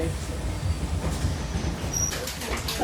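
Inside a moving train carriage, a continuous low rumble of wheels on track fills the space, with a brief high squeal and some faint background voices.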